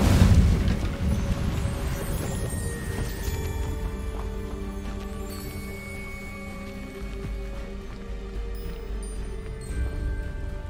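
Incendio fire spell cast in the Hogwarts Legacy video game: a loud whooshing burst right at the start, then a sustained roaring rumble that slowly fades under steady tonal game music.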